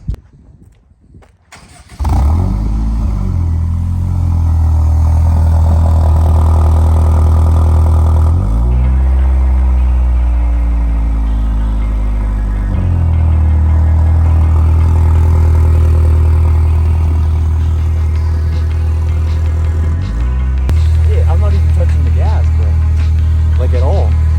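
A Honda Civic fitted with a new catback exhaust and shorty headers cranks, catches and settles into a loud, deep idle. The rumble holds steady near the microphone, with a few brief revs and blips along the way and voices talking over it.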